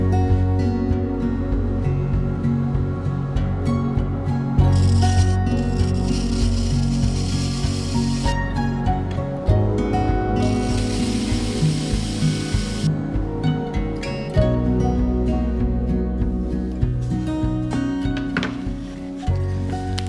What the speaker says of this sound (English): We'll do that over on the radiusing machine.